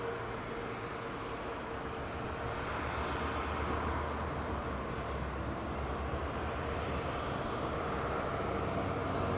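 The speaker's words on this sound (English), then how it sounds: "Comes TAP Air Portugal. Lisbon, that's a 320 Neo Tango Victor Mike." A TAP Air Portugal Airbus A320neo at Madeira airport gives a continuous jet engine roar, steady and fairly loud throughout, with no clear change in distance.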